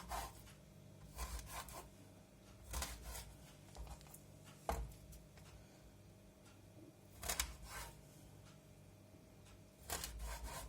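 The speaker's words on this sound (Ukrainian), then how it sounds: "ріжемо філе оселедця на невеликі шматочки" A knife cuts skinned herring fillet into small pieces on a board, giving soft, close chopping strokes that come in short clustered bursts with quiet gaps between them, and no voices.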